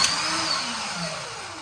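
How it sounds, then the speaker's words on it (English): Cordless battery-powered drywall sander with a spinning disc and a vacuum attached for dust extraction, a steady whirring hum with a falling pitch sweep as the motor winds down, alone and fairly close. "And this disc spins and does sanding very quickly."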